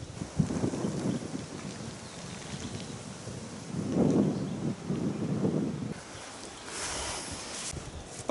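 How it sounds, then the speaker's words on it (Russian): Strong storm wind blows outdoors at a building site, roaring in gusts that swell and fade as a low rumbling rush, with a brighter hiss toward the end. "Сегодня ясная погода, штормовой ветер."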